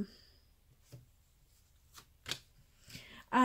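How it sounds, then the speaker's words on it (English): Tarot cards laid out one by one on a table, producing a few sparse, soft slaps and slides with quiet gaps between them, ending in a louder brush of cards. "So I'm just going to lay them out."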